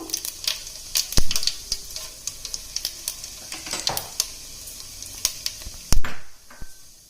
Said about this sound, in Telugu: Oil heat ఎక్కిందండి. కొంచెం జీలకర్ర యాడ్ చేస్తున్నాను.